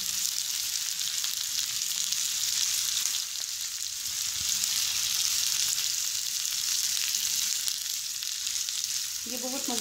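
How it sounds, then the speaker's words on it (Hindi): Chopped onions fry in hot oil for an onion curry, giving a steady, dense sizzle that holds evenly throughout, close and continuous, with a faint stir near the end. "प्याज को हमने अच्छे से फ्राई करना है तब तक जब तक इसका कलर लाइट ब्राउन ना हो जाए"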